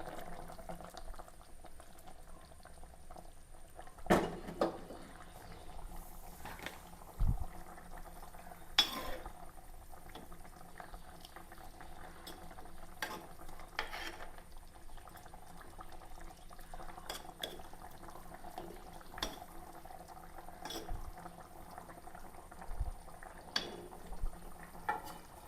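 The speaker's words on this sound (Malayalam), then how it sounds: "മീൻ തിളച്ചിട്ടൊരു 5 മിനിറ്റായി" Fish curry simmering in a pot on a home stove, a soft, steady bubbling with occasional faint clinks and taps of utensils, quiet and close with no voices.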